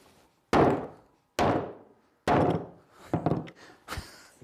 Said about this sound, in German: Durch das Klopfen wird es weicher